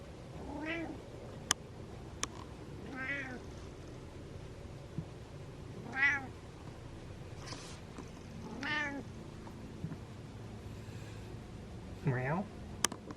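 Cat meowing several times at spaced intervals, close and fairly clear, with a few sharp taps and a person speaking softly in between.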